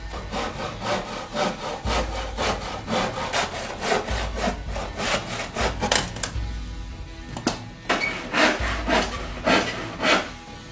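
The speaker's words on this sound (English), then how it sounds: "I just need to saw this into shape" Rhythmic back-and-forth strokes of a handsaw cutting through glued plywood, each rasping pass close and loud, with brief pauses between runs of strokes.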